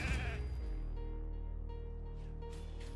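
Video game sheep bleating during a boss fight in Grim Forest, a steady drawn-out tonal bleat holding clearly over game music with no talking.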